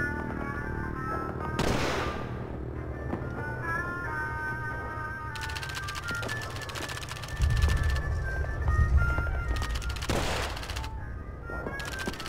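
Rifle shots fired at a row of helmet targets on a training range in Call of Duty 3, several loud sharp cracks spaced apart over a dense background of distant battle noise and rumble.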